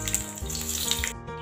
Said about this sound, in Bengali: এবার কই মাছ ভাজার তেলেই 5 ফোড়ন দিয়ে দিলাম